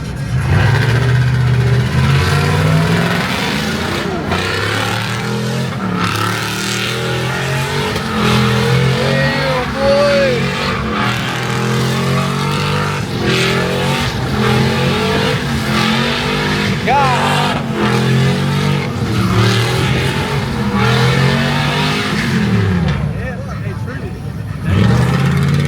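Car spinning out and revving at a crowded car meet, a continuous roaring engine drone with rising and falling revs, with people talking and shouting over it throughout.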